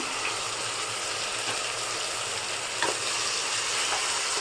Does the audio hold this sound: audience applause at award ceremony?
no